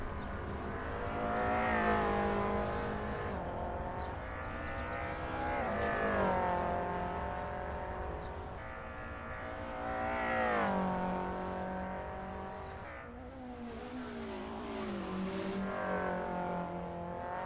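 A Ford touring race car circling a circuit at a Namibian touring car round, its engine rising and falling through repeated revving passes and gear changes, loud and continuous with no talk.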